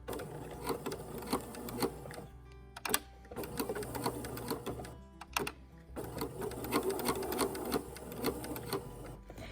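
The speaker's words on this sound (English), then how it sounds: "I have a straight stitch set, and I'm gonna hold my tails as I start, and I'm gonna back stitch." A sewing machine runs in fast, steady rattling stitches along a robe seam, back stitching in short runs with brief pauses between bursts, close and clear without talk.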